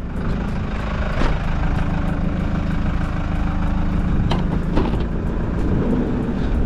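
A car engine runs steadily nearby with a rough, rumbling idle and a few faint clicks and knocks over it.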